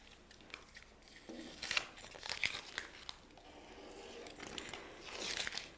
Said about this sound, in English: Now we're just going to trim off our transfer tape.